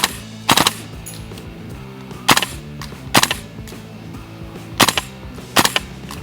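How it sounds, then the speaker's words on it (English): A KWA gas blowback airsoft gun powered by green gas fires short, sharp bursts of shots, about five quick volleys spaced irregularly, loud and close against a quiet outdoor background. "I'm gonna try full auto from back here."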